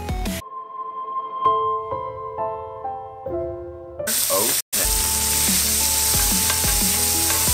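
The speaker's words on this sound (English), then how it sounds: "we lay our burgers in. We're gonna do 2 at a time. Now we're gonna cook these for 4 minutes on each side" Burger patties sizzle in grapeseed oil in a pan, two at a time, a steady loud broadband hiss filling the second half after a quieter stretch with musical tones.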